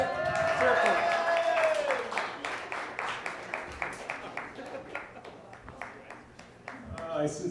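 Applause from a comedy club audience at a standup show in the Milk Parlor, starting as a dense wash of clapping and thinning into scattered, distinct claps that carry on for several seconds.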